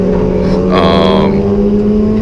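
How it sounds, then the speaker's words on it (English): A video game car engine drones steadily, rising into a brief rev midway before settling back to a constant hum. "I can still hear Austin's car"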